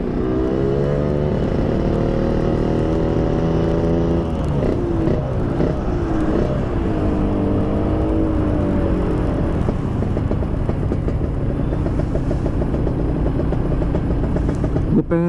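A Yamaha RX-King motorcycle fitted with an aftermarket PDK exhaust roars loudly and steadily, its two-stroke engine rising and falling in pitch through revs and gear changes, a gritty, raspy drone from start to finish with no voices.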